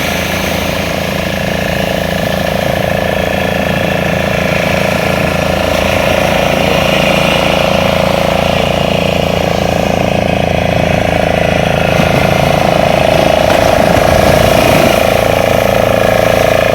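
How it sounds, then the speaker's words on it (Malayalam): A fishing boat engine drones steadily as the boat heads out to sea at sunrise off Uthandi Beach, Chennai, a loud, continuous mid-pitched rumble with wind noise and faint voices. "സൺറൈസിൻ്റെ അവിടെ തന്നെ ഒരു ബോട്ട് പോകുന്നത്. മീൻ പിടിക്കാൻ വേണ്ടിയിട്ട് അവർ കടലിലേക്ക് പോവുകയാണ്."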